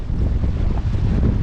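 Strong wind roars during a December sea storm with big waves on the coast at Ventspils, Latvia, a dense, steady low rumble buffeting the microphone throughout, with no voices.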